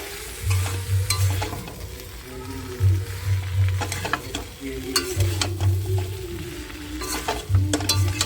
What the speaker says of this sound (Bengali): ফুলকপিটাও কষিয়ে নেব আলু মশলার সাথে